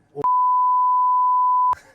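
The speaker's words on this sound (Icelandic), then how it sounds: "Við pípum þetta." A single steady censor bleep at one pitch lasts about one and a half seconds, loud and clean. It cuts across a golf conversation, with brief voice fragments just before and after it.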